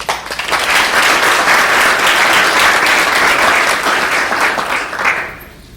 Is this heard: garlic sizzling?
no